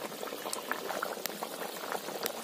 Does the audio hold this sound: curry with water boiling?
yes